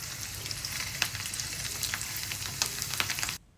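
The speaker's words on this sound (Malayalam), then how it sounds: "അത് കഴിഞ്ഞ് കഴിഞ്ഞാൽ നമുക്ക് അടുത്തത് ക്യാരറ്റ് പൊരിച്ചെടുക്കാം." Carrot pieces fry in hot oil with a dense, continuous sizzle and sharper spattering pops, loud and close, until the sound cuts off abruptly near the end.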